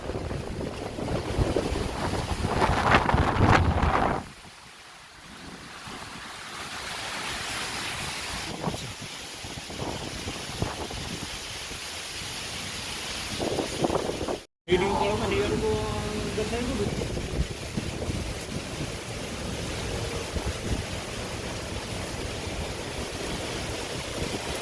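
Heavy rain and strong wind over a village pond, gusty roaring wind buffeting the microphone with rushing water and rainfall, loud and close, one brief dropout midway, with people talking throughout.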